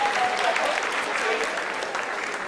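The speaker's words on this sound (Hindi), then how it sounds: "Lot of applause indicates that till now the performance has been nominal" Sustained applause fills mission control during the Chandrayaan-3 soft-landing descent, a steady wash of many hands with a voice faintly audible beneath it.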